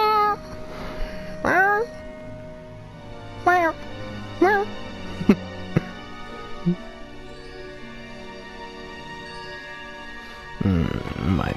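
A voice mimicking a cat: several short rising meows spaced apart, close and soft, with quieter sounds between them.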